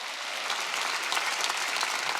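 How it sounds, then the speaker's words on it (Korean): Congregation applauding during a church worship service, dense steady clapping from many hands lasting throughout, fairly loud and close with no talking over it. "깨달은 사람 박수 치라고요"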